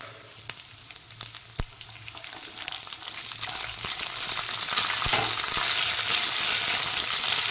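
Curry leaves and peanuts fry in oil in a pan, a close, steady sizzle that starts quietly and swells louder, with a few sharp clicks and stirring scrapes of a spoon against the pan.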